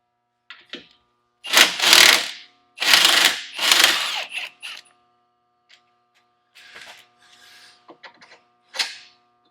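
Impact wrench removing the factory 18 mm radius rod bolts on a vehicle suspension, heard as several loud rattling bursts of a few seconds each, followed by shorter, quieter hammering bursts with gaps between them.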